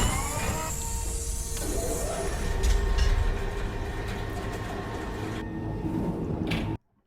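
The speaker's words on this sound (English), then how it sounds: "whenever you hear this noise right here, that means we're going to go ahead and fire up the Kismet Love Train" Kismet Love Train start-up effect in the game 7 Days to Die, a rumbling rail-car hum with clattering and a sliding-door hiss, continuous for several seconds before stopping abruptly.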